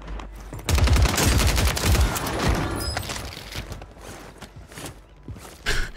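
Submachine gun fire from the Superi SMG in Call of Duty Warzone on Rebirth Island, a rapid loud burst of shots that trails off into scattered shots, clanks and footsteps, with another short burst near the end.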